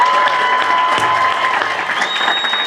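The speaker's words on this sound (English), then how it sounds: "We need to give another round of applause for our row." Audience applause at an 8th grade recognition ceremony, a steady dense wash of clapping from a crowd with a few cheers mixed in, sustained and fairly loud throughout.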